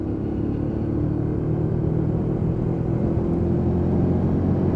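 Lexmoto Michigan motorcycle ridden at steady speed, a continuous close low engine rumble and drone with wind noise throughout, no distinct gear-change blips standing out.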